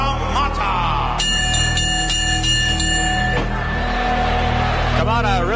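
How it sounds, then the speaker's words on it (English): At a wrestling match in Madison Square Garden, a ring bell clangs in a rapid run of metallic strikes lasting about two seconds, heard over a commentator's voice and the steady roar of the arena crowd. "actually before the bell rang."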